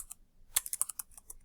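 Quick, light keystrokes on a computer keyboard form a short burst of about eight close taps, crisp and near in an otherwise quiet room.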